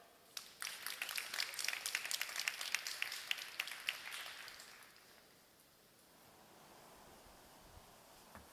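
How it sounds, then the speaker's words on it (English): A ceremony crowd at Chișinău City Hall claps to welcome the mayor, a scattered, moderately distant round of applause that thins out and fades into quiet room noise after about five seconds. "Please give a big round of applause to Mr."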